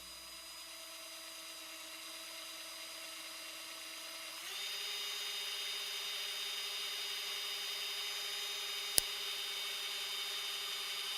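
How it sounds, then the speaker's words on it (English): A steady high-pitched drill whine runs throughout as holes are drilled in a wooden guitar neck for a fret inlay, rising in pitch and intensity partway through, with one sharp click near the end. "beginning by just drilling a couple of holes"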